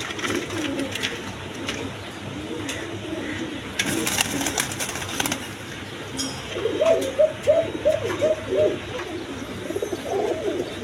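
American Lakkha pigeons coo amid a noisy loft or market, first as low murmurs, then a closer run of five quick, rising coos near the end, over steady background hiss and clatter.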